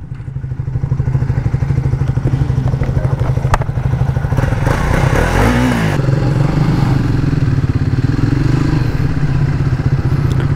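A Bajaj Triumph 400 motorcycle riding along, its engine a steady, loud, close drone with a brief surge of revving and wind rush midway.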